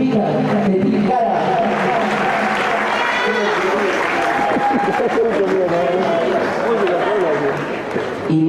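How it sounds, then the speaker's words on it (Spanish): Applause from the audience at a live folk music performance from Tilcara, a broad steady wash of clapping and crowd noise that runs the whole time, with an announcer talking over it. "Fuerte el aplauso de la familia de los Umahuacas, los Chupira, de Tilcara."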